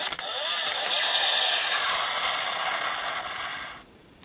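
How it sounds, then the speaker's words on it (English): Maximum drive sound from a Kamen Rider Accel Driver toy belt, a loud, bright electronic whirring burst lasting several seconds up close, then stopping abruptly, with no voices over it. "Not the most impressive maximum drive sound, but it's a maximum drive."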